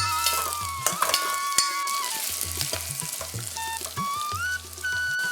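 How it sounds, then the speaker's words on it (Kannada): Onion and finely chopped large radish frying in a pan, a steady close sizzle with scattered clinks and scrapes of a stirring spoon, plus faint tonal whistles over it. "ಮೂಲಂಗಿ ಮೆತ್ತಗಾಗೋವರೆಗೂ ಇದನ್ನ ಸರಿಯಾಗಿ ಹುರ್ಕೊಳ್ಳಿ"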